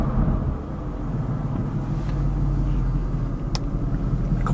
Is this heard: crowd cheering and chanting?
no